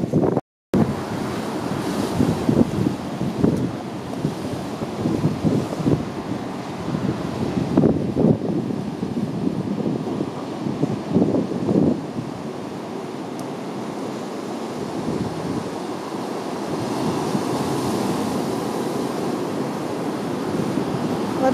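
Ocean surf rushes and rolls steadily onto a rocky American shore as the tide comes in, with heavy wind buffeting the microphone and no voices.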